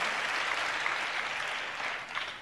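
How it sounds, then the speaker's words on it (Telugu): A church congregation claps in praise, a dense steady burst of applause from many hands that fades slightly toward the end. "చప్పట్లు కొడుతూ స్తోత్రాలు చెప్దాం"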